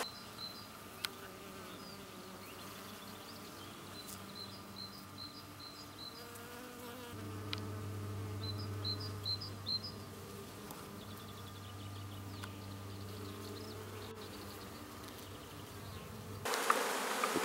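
Honeybees coming back to the hive carrying yellow oak pollen and orange cistus pollen, a steady close buzzing hum that swells slightly partway through, with faint higher bird-like chirps in the background.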